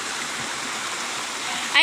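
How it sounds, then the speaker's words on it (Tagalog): Stream water rushes steadily in a forest bathing spot, a close, continuous broadband flow, with a brief burst of a voice right at the end. "Tubig."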